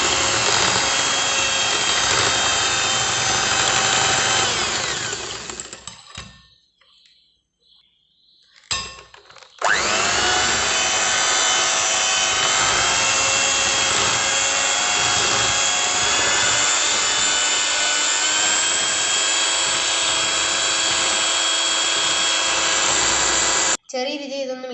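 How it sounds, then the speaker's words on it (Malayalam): An electric mixer beating mango cake batter gives a loud, steady whirring whine. It cuts out for a few seconds partway through, starts again, and runs until it stops abruptly at the end. "ഇപ്പം നമുക്കിന്ന് ബീറ്റ് ചെയ്തെടുക്കാം."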